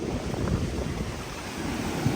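Big surf crashes steadily onto Legian beach in Bali at night, a dense continuous roar mixed with wind buffeting the microphone.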